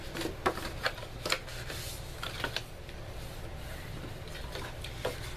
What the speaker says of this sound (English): we're just going to go ahead and get our bone folder and go ahead and fold on all the score lines